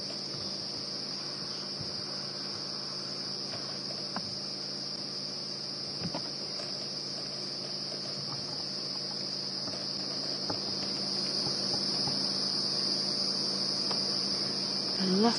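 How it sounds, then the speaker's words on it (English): A dense, constant night chorus of crickets and cicadas in the African bush drones with a high shrill buzz and steady chirping, continuous for the whole stretch and growing slightly louder near the end. "lots and lots of cicadas and crickets all of a sudden"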